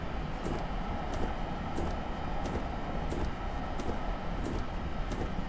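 An NJ Transit ALP-45DP locomotive on the North Jersey Coast Line in Train Simulator makes a steady rumbling roar with a regular clicking beat of wheels over rail joints, continuous and fairly loud with no talking.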